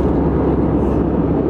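Inside an airplane flying over mountains, a loud steady low cabin roar of the engines and airflow fills the scene, constant and unbroken, with no talk.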